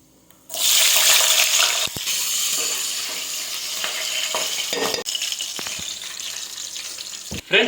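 Green chillies drop into hot oil already holding cloves, cardamom, bay leaf, shahi jeera and cumin for a chicken curry, bursting into a loud, close, crackling sizzle that runs steadily, broken by a few sharp spatula scrapes and clinks.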